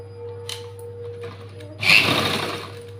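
A sewing machine stitches the lining onto a button-front blouse, a short, fairly loud whirring burst of under a second and a half rising out of a steady low hum.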